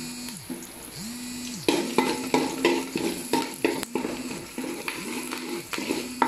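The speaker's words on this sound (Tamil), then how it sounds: "நல்லா கிண்டிடுங்க" Cumin, coriander and asafoetida powders stirred in a hot pan: steady rhythmic spatula scrapes over a soft, continuous sizzle, close and fairly loud, with no voices.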